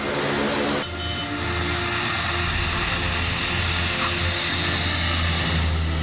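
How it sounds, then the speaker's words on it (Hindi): A C-130 Hercules transport aircraft lands on an expressway airstrip, its loud, continuous four-engine propeller roar and drone holding steady throughout, close and without speech. "C-130 हरकुलिस ने भी एक्सप्रेसवे पर लैंडिंग की।"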